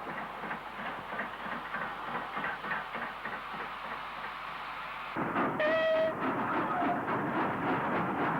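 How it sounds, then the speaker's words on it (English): Steam locomotive 47308 shunting at the Bromsgrove loco and wagon works, with a steady rumble of engine and wagons joined later by louder clanking and a brief whistle. "Sister engine 47308 is doing some shunting."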